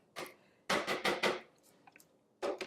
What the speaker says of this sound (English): We're going to stop and just scrape down the bowl.